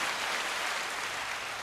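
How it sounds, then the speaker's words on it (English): A round of applause from an audience, a dense, even hiss of many hands clapping at once, held steady at moderate volume without a break. "Let's give Mark and Professor Soft Eyes a round of applause for the No Dick Bozo of the week"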